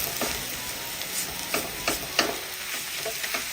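Spice powders being stirred into hot sautéed onions in a pan: a steady frying sizzle with scraping stir strokes every half second or so, close and fairly loud.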